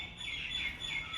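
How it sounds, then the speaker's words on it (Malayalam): Forest birds such as a mynah, a parrot and a koel call from a bamboo thicket beside a stream. A short, clear, high chirp rings out at moderate volume with no voices over it. "മാടത്ത, തത്ത, കുയിൽ എല്ലാം പാടുന്നുണ്ട്."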